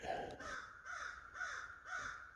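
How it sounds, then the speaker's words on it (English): Crow in a forest giving four harsh, evenly spaced caws, fairly near and clear against a quiet background. "get out of here, crow"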